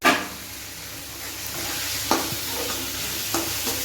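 Nepali mixed vegetables fry and sizzle softly in a pan, with a few distinct clinks of a spoon stirring, close and fairly quiet.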